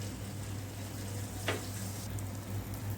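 Adhirasam dough for a Diwali sweet fries in hot oil, giving a steady, close sizzle throughout with one brief splash-like crackle partway through.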